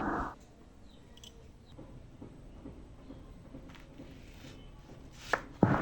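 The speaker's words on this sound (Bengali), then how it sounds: "তো এখন সবগুলো আমকে পাতলা স্লাইস করে কেটে নেব" A knife thinly slices semi-ripe mangoes, heard as a run of soft, regular close cutting taps, with a sharper knock near the end and no talking.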